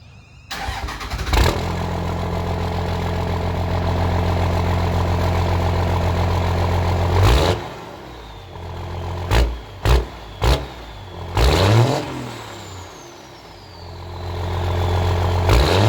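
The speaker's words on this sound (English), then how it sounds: "gonna do a quick start up here, just so you guys can hear the exhaust note" A 1998 12V Cummins diesel with an HX Super 9 turbo cranks and fires, then idles with a loud, steady rumble before several sharp revs in quick succession and a rising final rev.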